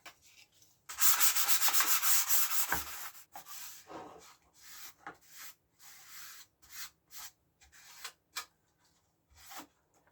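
Light hand sanding of dried primer with 400-grit sandpaper on a model, a steady close rasping stroke at first, then broken into short scratchy passes with brief pauses.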